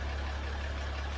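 A Jeep Grand Cherokee engine idles while warming up before an oil change, producing a steady, even low rumble with no speech.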